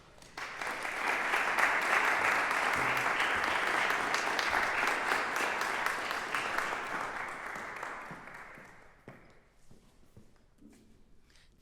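An audience applauds warmly to welcome a guest speaker at a university dean's circle presentation, a full steady burst of clapping that holds for several seconds before fading away.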